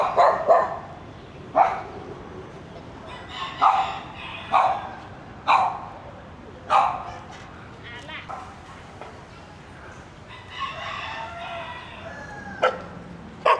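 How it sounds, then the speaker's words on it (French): Dogs bark on a street in Phnom Penh, a series of sharp barks repeating every second or two at moderate distance, with a rooster-like call and quiet voices in the background. "Il y a des chiens."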